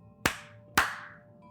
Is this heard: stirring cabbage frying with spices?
no